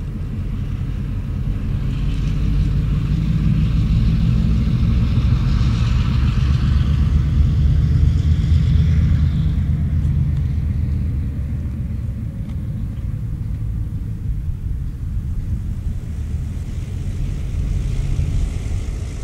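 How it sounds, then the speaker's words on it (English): A Penn Central GP7 diesel locomotive rolls past a passenger car yard toward Union Station, giving a loud, steady low rumble that swells and holds for close to twenty seconds with no voices. "The GP7 rolls past the passenger car yard, headed for Union Station."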